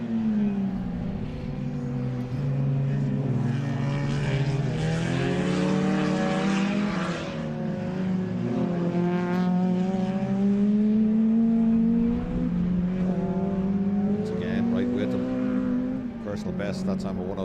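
A Honda Integra race car accelerates out of a corner on a circuit, its engine rising in pitch through the gears over a continuous, loud drone, with race commentary running throughout.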